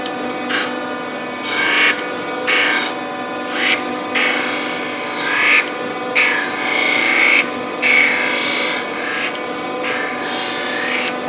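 A surface grinder grinding a machine part flat, with a loud, steady rasping hiss that rises and falls in regular passes as the wheel sweeps back and forth across the workpiece, close up and without talk.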